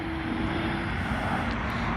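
A military aircraft comes in to land, its engine making a loud, continuous drone with a steady tone throughout the moment.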